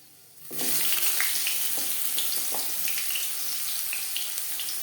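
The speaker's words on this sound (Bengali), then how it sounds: "পাঁচ ফোড়ন ভেজে নেওয়ার পর দিয়ে দেবো কুমড়ো" Pumpkin pieces drop into hot refined oil with panch phoron for shukto, a loud steady sizzle starting abruptly after a quiet moment, with a few small crackles and clinks on top.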